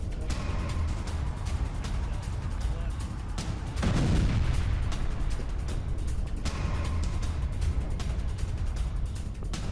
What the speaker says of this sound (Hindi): लेकिन पानी में उतरते ही इसमें जोरदार धमाका हो गया।